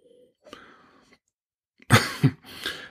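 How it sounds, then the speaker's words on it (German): A faint breathy sound, then two sharp, close coughs in quick succession, followed by a softer exhale. "Auch wenn ich husten muss."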